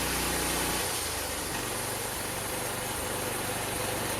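Homemade bandsaw sawmill powered by a cammed 327 small-block engine, idling roughly with a steady, loud, lumpy rumble that continues throughout, with no voices.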